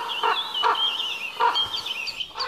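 Crows caw in a forest clearing near a wolf den, a series of raspy, squawking calls in quick bursts over faint background hiss, with no one speaking.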